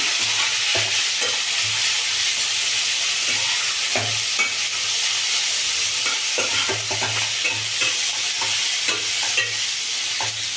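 Ivy gourd (tondekai) fries in a pan for palya with a constant close sizzle, while a spatula stirs it in repeated scraping strokes throughout.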